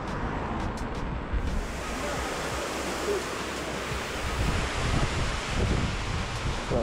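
Outdoor fountain water splashing in a steady broad rush, close and fairly loud, mixed with wind buffeting the microphone.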